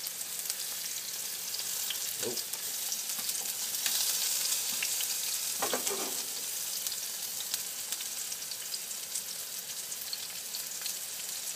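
Spinach-stuffed chicken breast sears in a hot pan with a steady, close sizzling hiss throughout, joined by a couple of brief scraping touches and one short spoken word.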